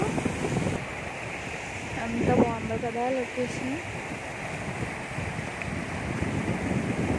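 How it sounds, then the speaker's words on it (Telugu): Fast-flowing river water rushes loudly and steadily near a long bridge, a dense roar throughout, with a person speaking briefly in the middle. "వాటర్ అయితే చాలా గట్టిగా వినిపిస్తుంది"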